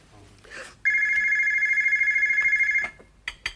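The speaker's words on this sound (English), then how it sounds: "Are you going to answer that phone or what?" A telephone rings loudly in a steady continuous electronic trill for about two seconds, close by, in a Glasgow tenement comedy scene, with brief voices before and after.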